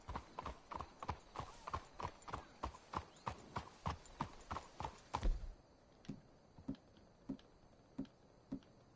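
Horse hooves clip-clop in a steady trotting rhythm in Red Dead Redemption 2, loud and close at first, then slowing to softer, spaced footfalls after a brief thump.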